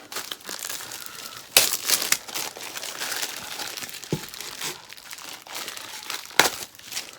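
A picture frame is unwrapped from its packaging, with close crinkling and crumpling of wrap, a few sharper tearing bursts and quiet rustles in between, without speech.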